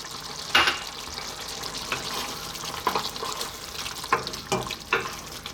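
Prawn, garlic and chilli pasta sauce sizzles steadily in a pan, with a few louder clatters and stirring bursts from utensils scraping the pan through the low frying hiss.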